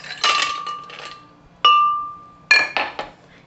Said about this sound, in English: First, start off by adding the ice cubes.